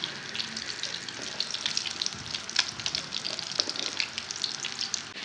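Food frying in a pan for an iftar meal, a steady crackling sizzle with scattered pops and spits, close and moderately quiet, no talking.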